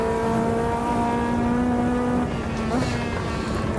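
Race car engine in Automobilista 2, a sustained loud drone with steady harmonics, holding pitch through a corner with a brief blip near the end and faint tyre scrub beneath.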